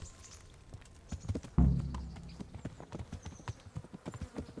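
Rhythmic hoofbeats of horses clip-clopping at a brisk pace in the video game Kingdom Come: Deliverance, with a loud thump near the start and steady hoof strikes continuing close by.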